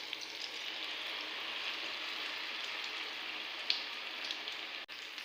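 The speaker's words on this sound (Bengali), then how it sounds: "ব্রেডগুলোকে বেসনের মধ্যে ডুবিয়ে কড়াইতে ভাজতে দেব।" Gram flour battered bread sandwiches deep-frying in oil in a wok, a steady broad sizzle and crackle running evenly throughout with a few sharper pops, moderately loud and close, no voices.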